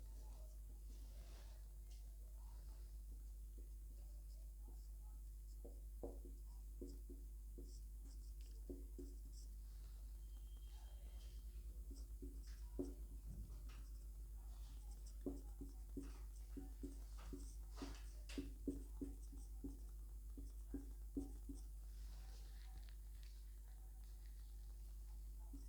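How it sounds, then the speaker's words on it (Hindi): Someone writing a question on a board, faint scattered taps and short strokes over a steady low electrical hum that continues throughout, with no talking. "मैं नीचे एक सवाल लिखता हूँ तब तक"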